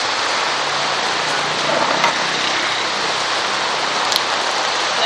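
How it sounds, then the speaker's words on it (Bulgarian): Steady rain falls in Cyprus, a dense even hiss of drops with a couple of faint knocks and no talking. "Покажи дъжда."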